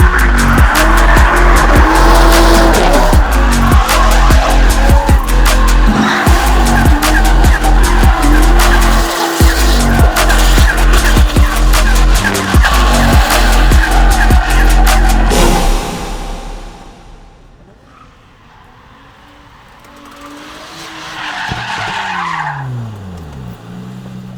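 A drift car slides hard through a training run, with loud, sustained tire squeal and a roaring engine for about fifteen seconds, then dropping away before a second, fainter slide rises near the end.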